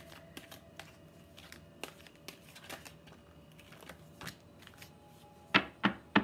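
Tarot cards being shuffled by hand, a run of quick riffling snaps and taps close by, ending with three louder, sharper card slaps, no talking.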